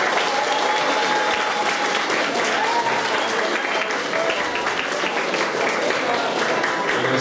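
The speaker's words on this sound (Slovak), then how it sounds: "Ešte jeden potlesk." Audience applause at the opening event of a school television station: dense, loud, continuous clapping from a crowd that holds steady for several seconds.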